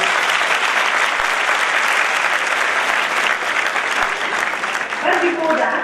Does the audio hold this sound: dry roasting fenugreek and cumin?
no